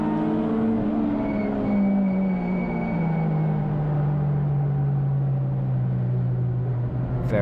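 Touring race cars of the CSCC Tin Tops series, including a Renault Clio, race at Brands Hatch GP circuit in tricky conditions, engine note sweeping steadily downward as they climb the hill, loud and continuous with no talk.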